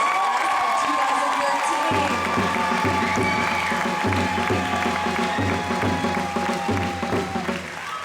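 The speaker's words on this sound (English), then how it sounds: "Let's give our graduates another round of applause." Applause and crowd noise at the June Jordan High School graduation in San Francisco fill the whole stretch, with a steady rumble of clapping and murmuring voices and a low rhythmic musical beat underneath.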